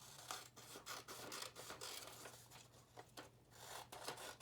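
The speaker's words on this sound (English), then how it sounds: "I'm going to cut this big square down into a smaller square." Scissors cutting a big paper square down into a smaller one make repeated close, faint snipping and rasping strokes in an uneven rhythm over a low hum, with no talk.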